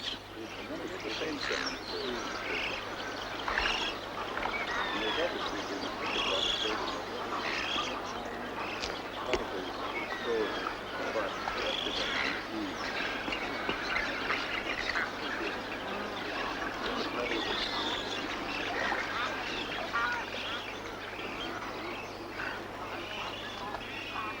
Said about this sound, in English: It's now an important breeding place for ibis and many other water birds.